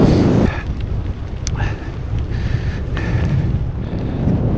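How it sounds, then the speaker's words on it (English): Cold coastal wind buffets a microphone on a gravel bike ride along the Lincolnshire coast, a loud, constant roaring rush that gusts and swells, with some voice mixed in. "This wind is really cold."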